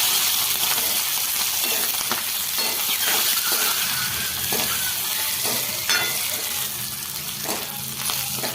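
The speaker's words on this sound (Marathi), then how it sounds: "बघा लगेच झाकण काढले मी आणि बघा आपला मसाला खूप असा मस्त भाजलाय" Masala spice mix with dried chilies roasting in a pan, its lid just lifted, crackles and sizzles steadily and briskly throughout, close and fairly loud, with no talking.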